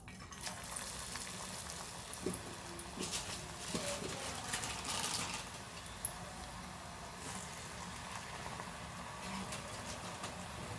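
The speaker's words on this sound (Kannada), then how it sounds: "ಕಾಯಿಲಿ ಎಣ್ಣೆ ಕಾದಿದೆ ಇವಾಗ ಇದನ್ನು ಹಿಂಗೆ ತೆಕ್ಕೊಂಡು" Chakli dough fries in hot oil with a continuous low sizzle and bubbling that holds steady throughout, plus a few faint clinks and stirring noises close by.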